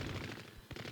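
Rapid automatic gunfire from a mech attack in SD Gundam G Generation Genesis, a dense continuous burst of shots that fills the whole second with a brief dip before resuming.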